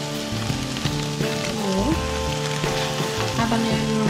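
Beef burrito filling fries in a pan with a steady, close sizzle and crackle, heard alone under background music.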